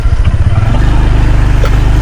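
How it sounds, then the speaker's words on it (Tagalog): A motorcycle engine idling close by on a farm, a steady low throbbing rumble that stays constant and loud, with no voices. "Marinig lang yung boses ng motor."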